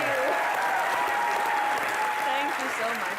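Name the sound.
applause for Ileana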